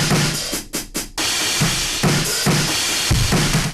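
Drum loop pushed through heavy Logic Distortion 1 with EQ and an added sub-bass layer under the kick, giving loud, dense, saturated hits in a choppy rhythm with brief gaps between bursts.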